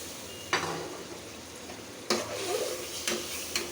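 Catfish (magur) pieces drop into a pan of spice masala being fried down, giving a steady low sizzle broken by a few sharp stirring clatters and bursts of spitting, close and fairly quiet with no voices.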